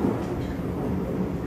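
Singapore MRT Kawasaki Heavy Industries & Nippon Sharyo C751B train running, a steady low rumble of rail noise from the carriage with no voices.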